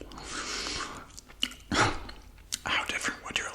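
Gum chewing heard close to the microphone, with wet smacking and soft crunchy bites in an irregular rhythm, mixed with quiet whispering.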